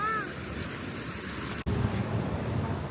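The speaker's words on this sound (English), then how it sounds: "Is it the waves?" Ocean waves wash onto a Caribbean beach as a steady, broadband rush of surf with some wind noise, continuous and fairly close throughout.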